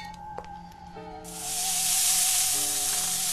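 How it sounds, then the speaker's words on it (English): A sausage cooking over a fire in the game Mad Father, a low hum and a few faint clicks before a loud, steady sizzle bursts in and fizzes on to the end. "Cook sausage."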